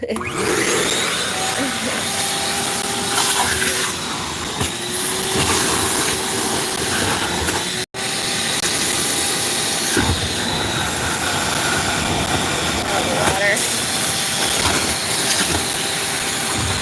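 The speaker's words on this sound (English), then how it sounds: "Don't like the vacuum, cover your ears." Vacuum cleaner sucking up water in a garden, a loud steady roaring whoosh with gurgling that runs throughout, briefly cut off midway, with children's voices over it.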